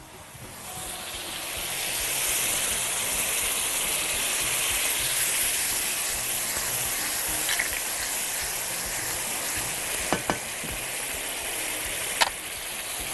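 Crushed tomatoes hit hot melted ghee in a pan, giving a steady close sizzle and hiss that swells and holds, with a few sharp clinks of a utensil near the end.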